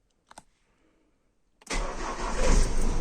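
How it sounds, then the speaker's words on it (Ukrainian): A couple of quick clicks, a pause, then a cold car engine cranks and catches, settling into a loud, rough idle close by. "Запускається машина."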